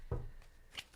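A deck of tarot cards is shuffled by hand, producing a quick soft riffle followed by a brief second flick, close and quiet.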